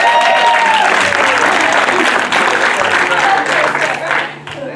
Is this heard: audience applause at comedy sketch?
yes